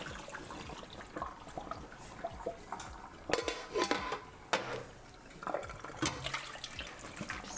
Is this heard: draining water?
yes